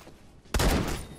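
A shotgun loaded with slugs fires a single loud, sharp blast with a short rumbling tail in the online shooter game Phantom Forces, following a moment of quieter background.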